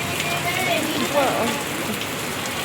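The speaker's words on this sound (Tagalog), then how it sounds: "Lakas ang ulan, wala kaming payong." Heavy rain pours steadily near a market street downtown, a dense continuous hiss of drops on surfaces, with a person briefly exclaiming over it.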